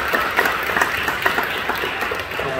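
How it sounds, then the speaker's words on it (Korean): A church congregation at a Friday night prayer service applauds with steady, dense clapping. The sound is a full-room wash of claps at even loudness, with little talk over it. "우리 박수로 격려해 주시죠."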